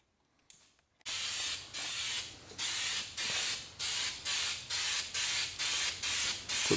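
Undercoating sprays from an aerosol can in a series of short hissing bursts, about ten evenly spaced loud sprays with brief gaps between them, close and steady.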